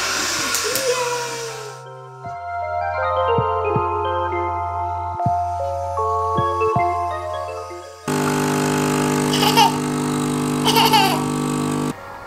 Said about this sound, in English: That's the sound of coffee, Debbie.